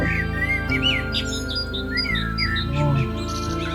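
Birds chirp and tweet among the trees of a forest, with quick bright calls scattered over a steady background of music.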